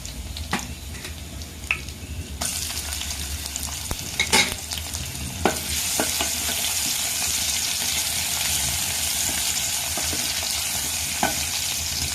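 Onion and garlic sauté in a pan, a quiet sizzle that swells louder once the onion goes in, punctuated by spoon scrapes and clinks against the metal.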